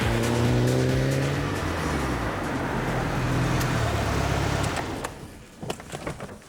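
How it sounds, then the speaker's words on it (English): Turbocharged performance car driven hard, a loud, close engine roar with shifting harmonic tones that rise and fall as it pulls, then drops away near the end into lighter whooshes and chuffs of turbo and exhaust. "That's the turbo just having a bit of a breather. It's a lovely sound."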